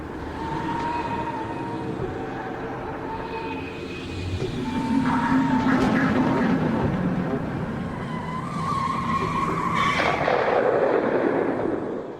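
A car braked hard after swerving across a road, tires skidding loudly, with a rising screech toward the end over steady road and engine noise.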